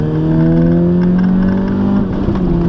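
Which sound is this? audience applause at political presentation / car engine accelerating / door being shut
car engine accelerating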